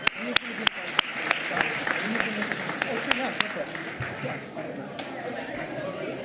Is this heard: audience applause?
yes